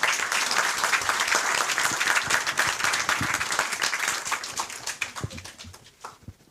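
Sustained, hearty applause from an audience after a general's speech in Senegal, a thick wash of many hands that holds strong and then thins out toward the end.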